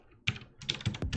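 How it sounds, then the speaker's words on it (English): Keys on a computer keyboard clack in quick irregular bursts, close and crisp, with short pauses between strokes and no talking. "I don't know why I'm just typing"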